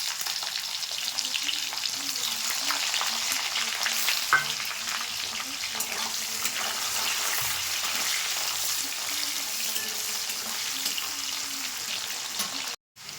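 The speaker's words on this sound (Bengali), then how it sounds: "পেঁয়াজটা ভাজা হয়ে গেছে" Onions sizzling steadily in hot oil with whole spices, a continuous close crackle and hiss with an occasional stir.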